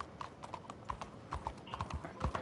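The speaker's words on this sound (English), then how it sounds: "I love the sound of the way the horse is sounding." In the video game Red Dead Redemption 2, horse hooves clip-clop in a quick, steady rhythm, faint and close, with light crunching underfoot.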